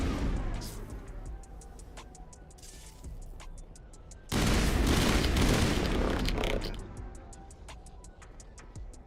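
Assault rifle fire in the video game Mass Effect, rapid clicking shots with a sudden loud dense burst midway, then tapering back to quick repeated ticks.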